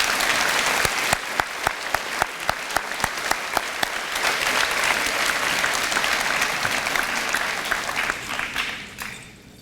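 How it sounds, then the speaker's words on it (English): Sustained audience applause for an 8th grade teaching team at a middle school promotion ceremony, dense clapping with a few sharp louder claps near the start, fading away at the end. "Can we please give them one last round of applause?"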